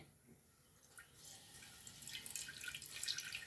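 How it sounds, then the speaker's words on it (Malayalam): Plain water poured from a small vessel into a pot on the stove, a faint trickling and splashing that grows steadily louder and brighter over a few seconds, with no talking. "ഞാൻ ഒരു ലേശം വെള്ളം ഒഴിച്ചു കൊടുക്കുന്നുണ്ട്, പച്ചവെള്ളമാണ്."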